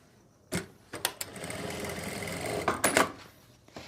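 A sewing machine stitches elastic onto palazzo pants: a few sharp clicks and handling knocks, then a short close mechanical run of about two seconds, ending in more clicks, with no speech.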